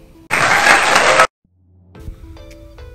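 A short burst of applause for a top 13 of the most beautiful Haitian artists, dense clapping for about a second then cut off abruptly, followed by quiet tonal sounds.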